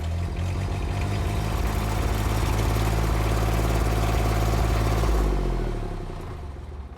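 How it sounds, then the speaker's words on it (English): A machine engine started with a key and left idling, a steady low, rumbling run with a faint clatter that holds evenly, then drops away and fades near the end. "the engine can now be started by turning the key to position 2 momentarily"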